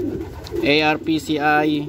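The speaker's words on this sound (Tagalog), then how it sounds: "So ito mga kalapatids, nakapagpahinga na ng konti." Racing pigeons coo close by, with two or three soft throaty rolling calls, while someone talks nearby.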